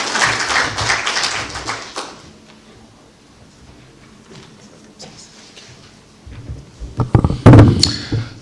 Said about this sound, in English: a round of applause for our Cabinet Secretary